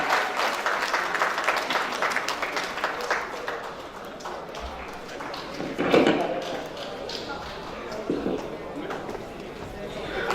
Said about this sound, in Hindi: आपकी तालियां चाहिए आकाश भाई